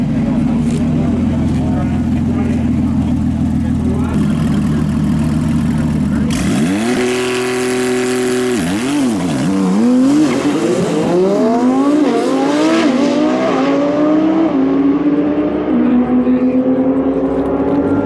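Porsche 992 Turbo launching down a quarter-mile drag strip at a TX2K event: steady idle rumble, then engines climbing through rising rev sweeps and gear changes, loud and close, with crowd and announcer talk underneath.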